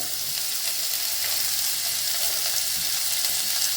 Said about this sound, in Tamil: இந்த வெங்காயம் வந்து ரொம்ப வதங்கக்கூடாது கொஞ்சம் ஓரளவுக்கு நல்லா வதங்கி வந்தால் போதும்